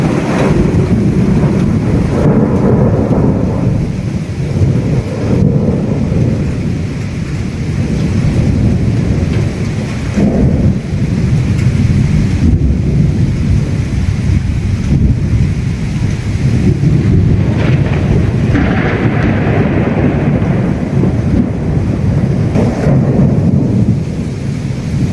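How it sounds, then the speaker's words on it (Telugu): Heavy night-time thunderstorm over Greater Visakhapatnam, with steady loud downpour and rolling thunder rumbling throughout, dense rain noise filling the scene with no talk. "గ్రేటర్ విశాఖను అర్ధరాత్రి వేళ గడగడలాడించిన బికార ఉరుములు మెరుపులతో కూడిన వర్షం"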